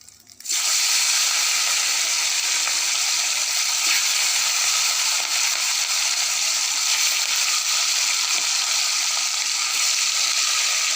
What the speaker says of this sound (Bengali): দেখো আমার মাছ ভাজা চলছে,